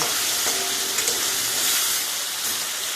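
Pieces of boal fish fry in hot oil in a wok, giving a loud, steady, close sizzle with occasional sharp pops and crackles.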